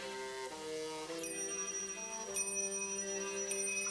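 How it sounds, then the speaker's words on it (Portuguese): Small bells placed at intervals along an inclined plane track ring one after another as something rolls down, clear bright tones sounding over a sustained musical background. "Vamos posicionar os sinos de modo que eles toquem em intervalos regulares."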